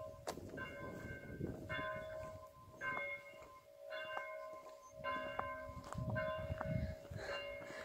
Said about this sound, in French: Rythmé au son des cloches.